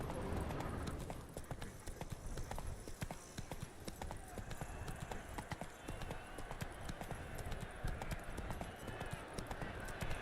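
Rapid hoofbeats of a galloping horse in The Witcher 3 video game, a continuous clip-clop rhythm with occasional soft snorts and a quiet voice faintly underneath.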